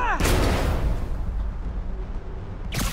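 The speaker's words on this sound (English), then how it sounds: "Is this how modern militaries do skeet shooting?" A heavy, booming shot rings out and rumbles away during skeet shooting in Spider-Man Remastered, followed by a second sharp blast at the end, with voices nearby.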